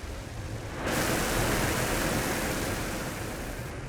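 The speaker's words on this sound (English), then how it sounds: "We have liftoff." Rocket liftoff in Mars Horizon, a sudden surge of broad roaring noise that jumps in after a short quieter hiss, then holds as a steady loud rumble before easing slightly.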